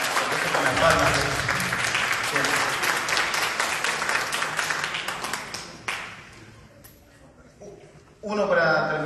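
Audience at a live university wind concert claps in unison with their palms, a dense, loud rhythmic patter that thins out before a voice speaks near the end.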